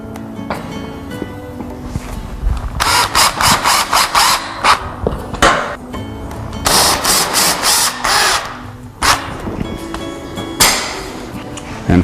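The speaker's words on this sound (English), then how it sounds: "you're going to want to tack your corners down with the 5/8" screws" A power drill drives 5/8-inch screws into the corners of a Tilt-Away Murphy wallbed, in loud, repeated whirring bursts separated by pauses with handling clatter.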